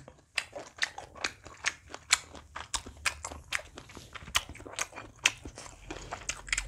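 Plump kielbasa sausage is chewed close up in crisp, snappy bites, a fast irregular run of moist crunches and squelches with no talking.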